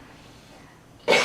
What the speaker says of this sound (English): I have to cough. Oh, it hurts so bad.